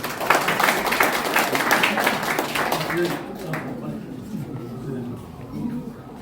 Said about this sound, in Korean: 좀 박수 한번 보내주시죠.